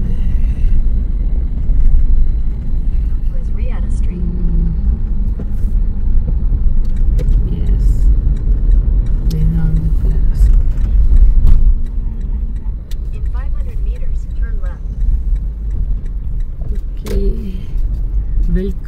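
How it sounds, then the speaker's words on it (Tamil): Car driving slowly into visitor parking at a palace in Abu Dhabi, a steady close engine rumble and road noise from inside the vehicle, with people talking now and then over it. "விசிட்டர் பார்க்கில் வண்டி போட்டுருவோங்க"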